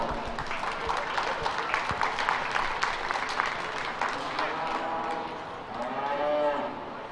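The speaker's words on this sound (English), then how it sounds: "Let's give this class a round of applause." An audience claps in a steady round of applause at a youth fair and livestock show, while cattle low nearby and a crowd murmurs in the background.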